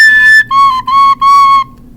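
A recorder plays a shrill, squeaky high note with the thumb hole only partly covered, then drops to a lower note sounded in three short breathy bursts. Close and loud, no voices.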